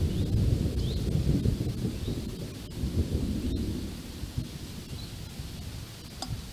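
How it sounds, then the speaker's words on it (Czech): Deep rolling thunder from an approaching storm, a long low rumble that swells loud at first and slowly fades over several seconds, with faint rain in the background and no voices. "blíží se bouřka"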